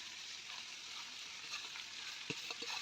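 Curry leaf chicken fry sizzles in a pan as it is mixed, a quiet continuous frying hiss with soft stirring scrapes and a few small clinks near the end.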